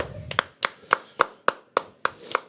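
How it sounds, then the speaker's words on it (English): Eight sharp hand claps in a steady, slightly uneven rhythm, close and fairly loud, with no talking. "I feel like clapping helps."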